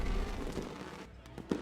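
A fireworks display celebrating a Dominator Cup race win crackles and booms in a dense, continuous burst, heard at moderate distance and fading slightly, with a few sharper pops near the end.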